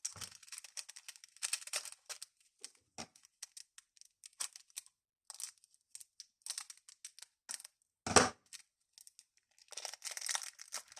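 Small plastic packets of diamond painting drills are handled and torn open up close, giving quiet irregular crinkles and rustles with a few sharper tearing bursts.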